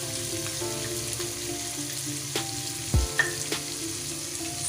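Masala with softened tomatoes fries in a pan with a steady, moderate sizzle, and a few clinks and stirring knocks break through it. No voices are heard.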